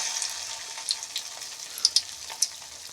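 Balls of a rice and coriander-leaf snack sizzle steadily in hot oil, with scattered sharp crackles and pops over a constant bubbling hiss.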